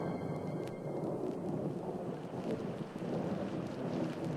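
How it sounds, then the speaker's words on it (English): Steady rain with rolling thunder rumbling low beneath it, a dense continuous wash of noise over a primordial landscape of hot surface rock, with no voices present. "And then the rains came, hissing and steaming off the hot surface rock"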